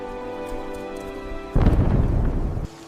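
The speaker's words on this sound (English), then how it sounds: "Then, a low rumble of thunder echoed through the space." A low, heavy rumble of thunder rolls in abruptly after a quieter hum and lasts about a second before cutting off, loud and deep, near a volcanic landscape.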